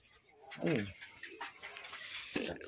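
Teddy pigeons, including a breeding pair, coo softly nearby in short throaty bursts, separated by quiet gaps, with a little background murmur.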